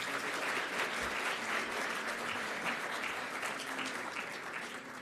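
A summit audience on African hydrogen applauds the Deputy Prime Minister and Minister of Industries, Mines and Energy: a dense, steady wash of many hands clapping that fades slightly toward the end.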